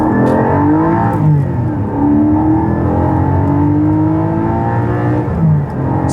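A Porsche 718 Cayman GT4 4.0 engine revs high and hard, from 4,500 to 8,000 rpm, its pitch climbing and dropping through gear changes in a steady, loud, continuous roar.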